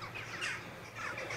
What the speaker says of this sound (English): The amount of crows in here is unreal.